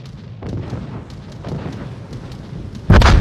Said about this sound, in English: Torpedo drop now going in on Ben's Montana